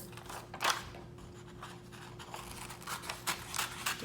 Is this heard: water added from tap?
no